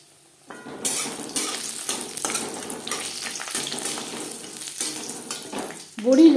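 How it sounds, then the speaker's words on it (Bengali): Bori lentil dumplings fry in refined oil, a close crackling sizzle that starts abruptly and carries on with spoon scrapes and light clinks against the pan, ending on a louder knock. "4 চামচ রিফাইন্ড অয়েল গরম করে নেওয়ার পর সবার প্রথমে বড়ি ভেজে নেব"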